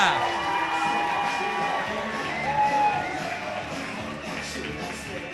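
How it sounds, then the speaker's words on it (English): A stand-up comedy crowd cheers, whoops and shouts as the comedian is welcomed onstage, a busy mix of voices and hollering at moderate distance that swells and then eases slightly. "clap your hands. Scream and shout."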